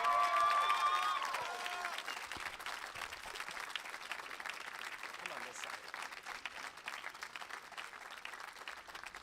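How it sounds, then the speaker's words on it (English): An audience at a high school band concert applauds, a dense wash of clapping that starts full and fades to a steadier, thinner patter, with a brief musical tone at the start. "So could we please give a huge round of applause to Mr."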